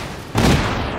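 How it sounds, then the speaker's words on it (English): Explosion in the open-world video game Just Cause 3: a single loud, sudden blast that hits at once and decays into a sustained rumble across the remaining second, with no voices. "Explosions!"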